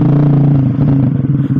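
Suzuki GSX R150 motorcycle fitted with an SC Project Brataktak aftermarket exhaust, on a stock ECU, revving close by: a steady low engine drone that breaks into choppy, uneven pulses as the throttle moves.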